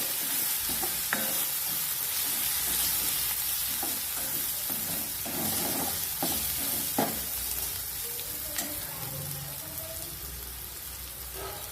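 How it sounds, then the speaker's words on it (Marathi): Green chili and garlic sauté in hot oil in a home kitchen, a steady close sizzle with occasional stirring clicks and scrapes of a spoon, heard alone throughout. "छान तेलामध्ये परतून घ्यायचे कारण हिरव्या मिरचीचा लसणाचा जरा कच्चापणा जातो"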